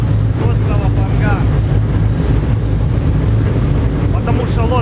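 A fast speedboat crossing the sea near Ko Tao, Thailand, drones steadily with a low engine rumble, wind buffeting and water rushing against the hull.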